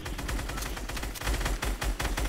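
Rapid bursts of gunfire from the Fortnite video game crackle in quick clusters, loud and dense, with brief gaps between volleys.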